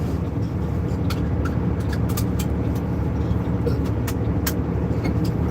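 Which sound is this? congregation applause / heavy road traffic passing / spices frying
heavy road traffic passing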